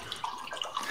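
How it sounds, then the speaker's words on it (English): Clase Azul Reposado tequila pouring into a glass, a short trickling liquid splash with light drips, close and fairly quiet over about a second. "so Dax is pouring as well"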